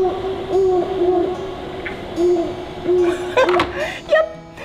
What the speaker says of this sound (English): Yep, the great horned owl.